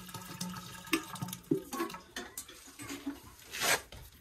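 Water runs and splashes into a cast iron claw foot tub set on a concrete slab, in uneven gurgling bursts and drips, close and fairly quiet, with no voices.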